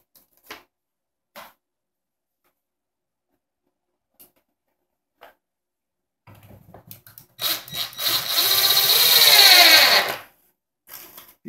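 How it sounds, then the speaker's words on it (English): A power drill drives H4 screws into wooden braces during furniture assembly: a few scattered clicks and taps, then one close, loud whirring run of about three seconds that winds up and stops. "We'll be using our H4 screws to attach these braces as well."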